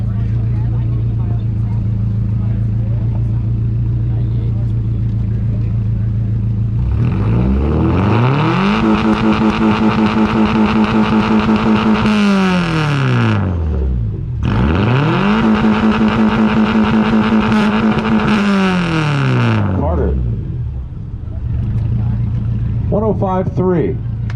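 A 1998 Subaru Legacy GT's exhaust is revved at a Subaru exhaust competition meet: a steady idle rises into two long, loud revs that climb, hold a high droning pitch, and fall back, ending with short blips.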